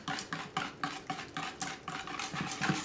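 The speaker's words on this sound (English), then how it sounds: "I'm going to do one egg at a time. You're going to whisk that all in." Eggs are whisked one at a time into a gluten-free flourless chocolate cake batter, with quick, even strokes repeating about twice a second, close and continuous.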